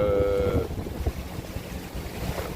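A sailboat under way at sea at night, heading home against the current, with steady wind rumble and water noise washing over the microphone and a brief low tonal hum at the start.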